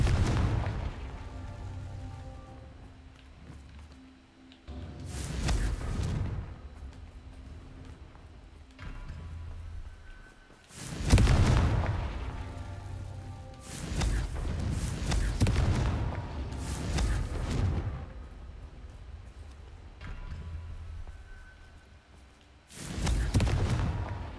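Confringo explosion spells fired in the video game Hogwarts Legacy, several loud booming blasts spaced every few seconds over a rumbling background of combat effects.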